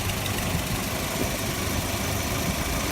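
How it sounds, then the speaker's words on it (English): A car engine idles with a direct vacuum leak, a steady, loud, close low rumble with constant vibration and no change in rhythm throughout. "See, the engine is running the same way even if we have a vacuum leak."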